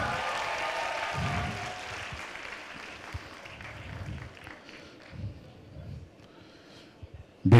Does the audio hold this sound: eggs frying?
no